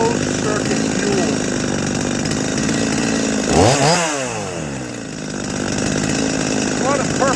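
A Holzfforma G255 chainsaw engine idles during carburetor tuning, then blips briefly with a rising and falling rev before settling back to a steady buzzing idle, close up, with a voice speaking over it.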